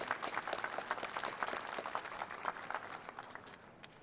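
Audience applause at a business expo hall, a fairly faint, steady patter of many hands that gradually thins out toward the end.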